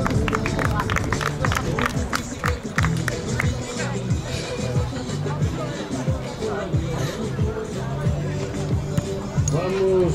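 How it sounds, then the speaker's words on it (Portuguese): Crowd applause and clapping for young athletes at an athletics meeting awards ceremony in Matosinhos, steady and fairly loud over a murmur of hubbub and background voices throughout. "Nosso grande aplauso para o Daniel, o Eduardo e o Tomás."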